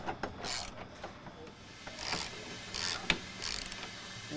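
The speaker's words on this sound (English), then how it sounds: "We're going to get this bolt nice and snug." A hand ratchet snugs a bolt on a replacement 45-gallon fuel tank for a Mercedes Sprinter van, giving quiet, close clicking and rasping bursts in a loose rhythm with no talking.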